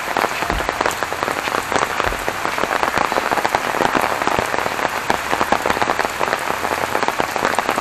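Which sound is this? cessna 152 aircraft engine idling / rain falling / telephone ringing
rain falling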